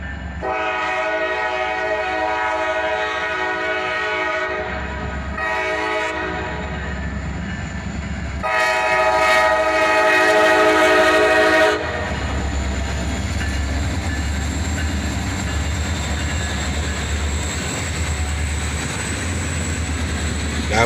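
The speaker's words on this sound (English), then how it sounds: "here we get a little horn salute from the engineer as a pair of SD43s lead" A pair of SD43 locomotives sounds a horn salute: loud, chordal blasts in several bursts, the longest and strongest near the end, over a steady rumble of the passing train that continues after the horn stops.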